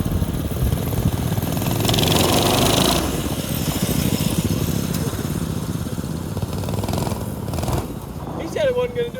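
A mini bike carrying three 30HP engines warms up at a drag strip with a rough, uneven engine drone that swells near the start and then settles into a lumpy idle, while people talk nearby.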